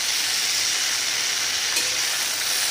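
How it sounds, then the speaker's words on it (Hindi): Potatoes, okra, tomatoes, garlic and dry spices frying in a pan give a loud, steady close sizzle and hiss throughout, with a brief stir or clatter partway through and no voices. "अभी ये धीरे धीरे इस तरह फ्राई होते रहेंगे,"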